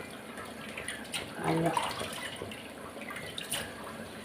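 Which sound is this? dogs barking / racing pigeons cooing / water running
water running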